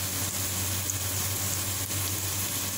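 Onion and garlic sizzle in hot oil in a pan, a steady, close crackling hiss with a faint low hum beneath and no voices.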